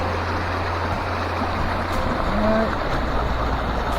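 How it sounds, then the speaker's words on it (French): Continuous broadband rush of a small stream flowing nearby, steady and fairly loud, with a low hum underneath. "Un joli petit ruisseau à traverser."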